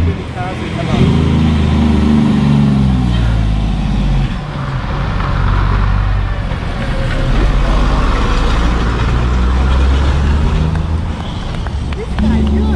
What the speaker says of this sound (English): we've got another truck coming up. He's coming down.